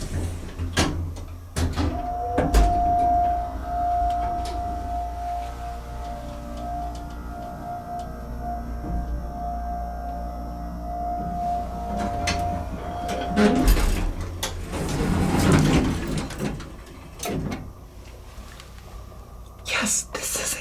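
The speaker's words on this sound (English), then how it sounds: "Yes, this is a Monarch elevator." A vintage Monarch hydraulic elevator at the York Building in Raleigh, North Carolina, with sliding doors rumbling and a steady mechanical hum and whine during the ride, while a person talks throughout.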